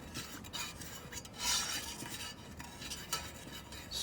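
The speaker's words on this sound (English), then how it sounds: "stir it in nice. See? So, gotta keep stirring." A drink mix being stirred to dissolve it, a spoon scraping and clinking repeatedly against the inside of a cup with steady rhythm, close and fairly quiet, with no talking.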